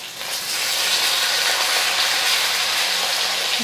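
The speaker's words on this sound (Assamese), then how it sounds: "মাছৰ মূৰখিনি ফ্ৰাই হৈছে" Fish heads frying in a kadai give a steady, hissing sizzle that rises after a brief moment and holds evenly, with no voices.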